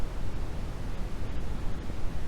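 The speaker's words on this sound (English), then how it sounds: "White noise sounds hissy and high-pitched, especially when compared to brown noise." Steady, hissy white noise: a constant broadband rush that stays even and unbroken from start to end, with no other sounds.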